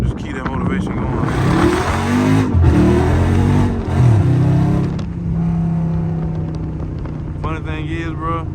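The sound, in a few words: Dodge Scat Pack engine revving with wheelspin, traction off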